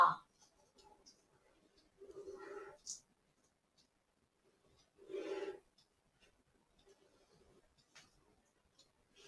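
Pen writing Bengali letters on paper, a few faint short scratchy strokes separated by quiet pauses, close and soft.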